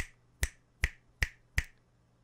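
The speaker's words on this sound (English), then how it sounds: "If I click behind the mic," Four sharp, evenly spaced finger clicks or snaps sound behind a Townsend Labs Sphere L22 microphone, each one brief and crisp against a quiet background.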